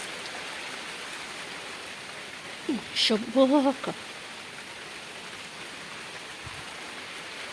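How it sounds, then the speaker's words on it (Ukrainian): Rain falls steadily on a vegetable garden of tomatoes and cucumbers as a constant soft hiss, while a person speaks briefly near the middle. "Бачите, дощ то менше, то більше."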